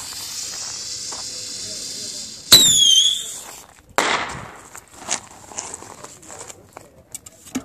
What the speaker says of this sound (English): we'll light up the Roman candle